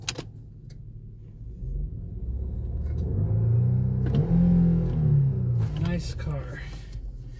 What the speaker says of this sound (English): I could just listen to that motor all day.